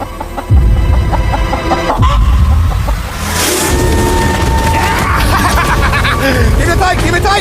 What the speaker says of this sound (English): Oh, this chicken's actually pretty chill.